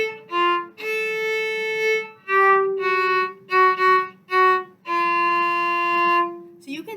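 Solo violin plays a short passage of bowed notes from measures 50 to 52, starting on a down-bow pickup. Sustained tones are separated by brief breaks, and there is no talking.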